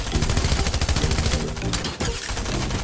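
Submachine gun fire in a fast multiplayer shooter video game, continuous rapid bursts of loud gunfire filling the whole stretch with barely a break, dense and close.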